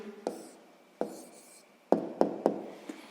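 Pen strokes writing down a math answer on paper, a handful of short scratchy taps and strokes in uneven rhythm, close and quiet, with no speech.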